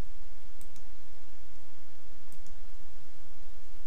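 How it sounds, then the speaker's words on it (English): A computer keyboard's Enter key gives a couple of faint, sharp clicks over a steady hiss of background noise. "I hit my Enter key on my keyboard."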